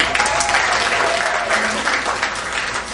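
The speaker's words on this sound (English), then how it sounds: "Round of applause" A comedy club crowd in Nashville gives a loud, sustained round of applause, dense clapping close up, with a faint voice briefly audible through it.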